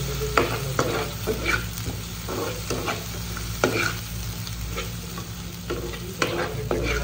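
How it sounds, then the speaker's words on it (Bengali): Tomato paste sizzles in a hot pan for a spiced Maggi noodle dinner, with repeated scraping strokes of a spoon stirring it through a close, steady crackle. "টমেটো পেস্ট দিয়ে দিলাম, সাথে নাড়াবো"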